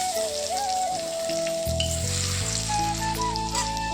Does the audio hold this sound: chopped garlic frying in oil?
yes